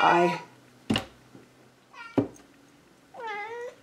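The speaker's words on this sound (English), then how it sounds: "If you don't mind a cat coming in here from time to time, stick with me." A house cat meows nearby, a few drawn-out calls at the start and end, with scattered thumps and short sounds between them in a quiet room.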